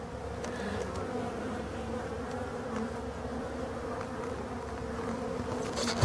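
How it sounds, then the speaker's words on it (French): Honeybees and a drone buzzing at a beehive entrance in late-season winter conditions: a dense, steady swarm drone close to the hive, continuous and even throughout, with no voices. "je viens de voir un faux bourdon qui vient de rentrer"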